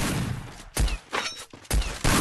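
Sniper gunfire in Free Fire: three loud, sharp shots spaced under a second apart, each a sudden booming crack with a brief tail, over quiet game background.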